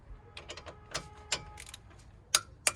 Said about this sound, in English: if I can get this torque wrench in here